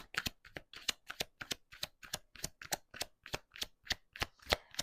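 Oracle cards are shuffled up close in a quick, regular series of soft riffles and snaps, about fifteen in five seconds, quiet and alone.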